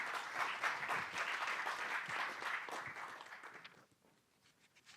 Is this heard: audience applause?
yes